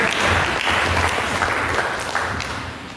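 A church congregation claps for Jesus during worship, a dense burst of clapping that is loud at first and slowly tapers off, with no speech on top.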